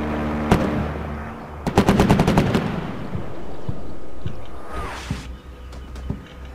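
Gunfire in the Combat Mission Shock Force war game: a single sharp shot, then a rapid machine-gun burst of about eight rounds, followed by a whooshing launch and scattered distant cracks.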